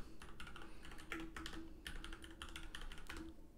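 Fingers type quickly on a computer keyboard, a dense run of close, crisp key clicks with no voices.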